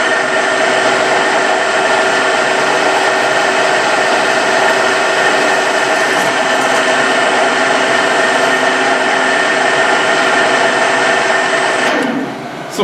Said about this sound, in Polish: Ok, no to wiercimy najpierw z ręki.